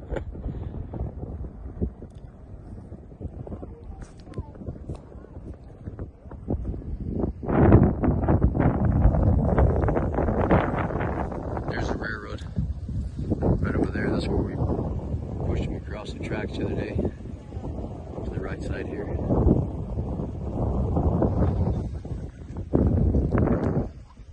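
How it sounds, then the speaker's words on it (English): Wind blowing across a ranch fence line up high near badlands, gusty rumbling buffets against the microphone rising and falling throughout. "Windy today, especially up here."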